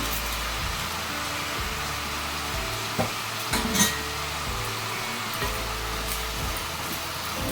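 Tomatoes fry in a pan for tomato thokku with a constant dense sizzle, broken by a few scraping stirs and clinks of the spoon, near and even in level.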